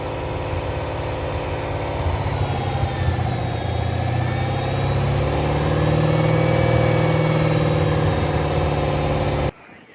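A Corvette engine is held at steady RPM in a shop, giving a loud, constant drone with a faint whine riding on top that swells slightly midway, then cuts off abruptly near the end, with no talking.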